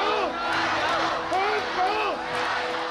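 A huge protest rally crowd in Hong Kong cheers and chants, rising and falling voices with whoops over a continuous roar of many people, loud and close.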